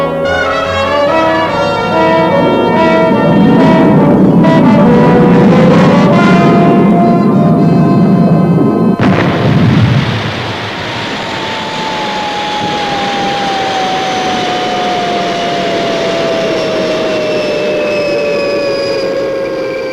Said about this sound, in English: Retros fired. Approaching landing pad.